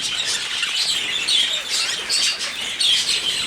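Small birds chirp and tweet repeatedly nearby, bright high calls overlapping in busy bursts, with faint rustling or fluttering beneath.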